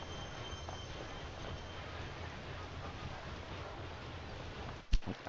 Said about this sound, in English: There's another mail train.